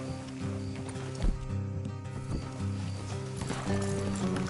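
Horses moving in Red Dead Redemption 2, with steady low hoof clatter and galloping beneath a continuous game music score that fills the clip, no speech.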